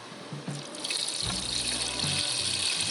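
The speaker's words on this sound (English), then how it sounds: "We're going to fill our EVAPORUST up to that line" Evapo-Rust rust remover liquid is poured into a tank up to the fill line, a steady splashing and gurgling stream that continues throughout, close and with no voices.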